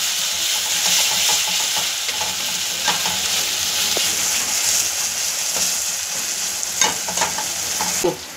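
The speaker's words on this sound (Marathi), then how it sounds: "आपण हे जे आहे आपलं कांदा टोमॅटो तो परतून घेत आहोत" Chopped onion and tomato sizzle and fry in a hot pan while being stirred, a steady bright hiss with occasional clicks and scrapes of a utensil against the pan.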